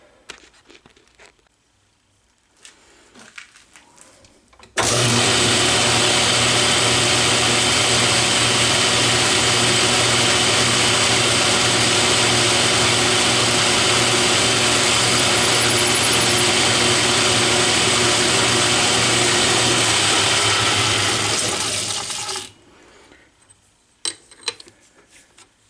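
An Atlas metal lathe starts up and runs with a loud, steady grinding whir for about seventeen seconds while drilling with a 5mm bit, then winds down, with quiet clatter before and after.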